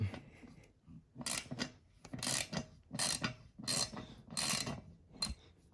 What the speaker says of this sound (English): let's try the opposite way, try and get the screw back out